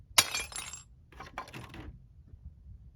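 A rifle bullet punches through porcelain lids: one sharp crack and bright shatter, then a second, duller burst of breaking and clinking fragments, followed by quiet.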